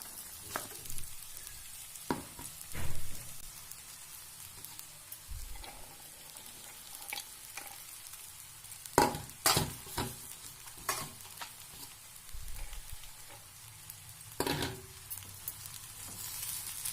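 Soaked sago pearls stirred into a sizzling tempering in a pan, with a steady frying hiss and scattered scraping stir knocks throughout.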